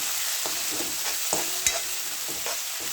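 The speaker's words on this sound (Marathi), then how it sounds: "अद्रक लसूणच्या पेस्टला 2-3 मिनटं परतून घेऊ" Ginger-garlic paste and tomatoes sautéing in a pan for chole masala, a close, steady sizzle broken by a few clanks of a spoon stirring against the pan.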